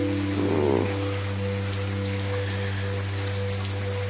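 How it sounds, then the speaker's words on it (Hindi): Rain falls steadily outdoors in Harchin during autumn, a constant soft patter and hiss lying beneath a persistent low electrical hum. "बारिश हो रही है"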